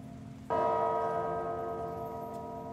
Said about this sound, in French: Les cloches, qui rythment les diverses étapes, sonnent la fin de la messe